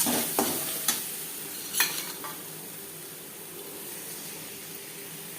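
Spices with turmeric and salt frying in a pan make a continuous soft sizzle and hiss, with a few scraping stirs early on, then settle into an even fry with no speech.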